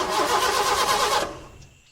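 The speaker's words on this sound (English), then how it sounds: "But when Dan turned the key, nothing happened." A car engine cranks rhythmically for just over a second without catching, loud and close, then the whirring cuts off and fades to near silence.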